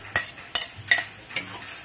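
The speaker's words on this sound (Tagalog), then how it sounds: "magigisa na tayo ng ating bawang" Garlic, two whole heads, is sautéed in a pan for a large batch of Filipino chicken adobo: three quick scraping stirs of a utensil against the pan over a soft sizzle, close and brief, with no voices.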